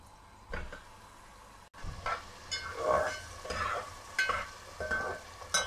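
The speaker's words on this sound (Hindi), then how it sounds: "घी गर्म हो गया, अब हम इसमें खोया शामिल कर देंगे।" Khoya fries in hot ghee for a Hyderabadi gullati sweet rice, with a near spoon stirring in repeated scraping strokes over a steady sizzle, and no talk.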